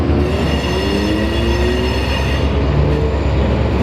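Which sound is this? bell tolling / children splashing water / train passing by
train passing by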